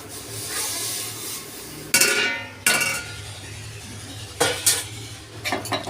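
Ground coriander, cumin, Kashmiri chili powder and salt being stirred into a pan for a potato curry, with a low rubbing stir broken by several sharp, loud clanks of the utensil against the metal.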